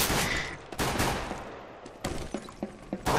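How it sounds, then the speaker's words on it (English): Rapid gunfire in the Counter-Strike: GO video game, loud bursts of overlapping shots and sharp cracks in quick succession, without talk. "Everyone's shooting each other."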